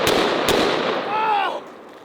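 A Raging Hunter 500 Magnum revolver fired in a cylinder dump: two heavy, booming shots in quick succession with a long rolling echo, followed by a person's drawn-out exclamation.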